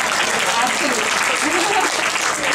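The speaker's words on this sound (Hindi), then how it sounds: "एक जोरदार तालियां हो जाए एक बार" Audience applause at an Aligarh Muslim University alumni music event, a dense steady wash of many hands clapping throughout, with faint voices mixed underneath.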